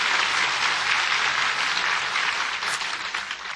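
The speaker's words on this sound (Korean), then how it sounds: "박수 한번 쳐주세요" Dense, loud applause from a congregation after a trumpet demonstration, a continuous wash of many hands clapping that tapers slightly toward the end.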